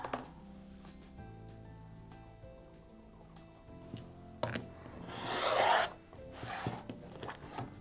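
Quilting fabric being cut into a strip with a few soft scraping and rubbing sounds, then a louder, longer swish of the cut toward the end, close by and otherwise quiet.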